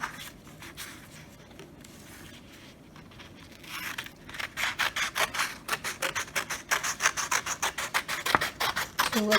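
Scissors cut through paper colored with green crayon, quiet rubbing at first, then a run of rhythmic, close, crisp snips and rasps that grow louder and more regular toward the end.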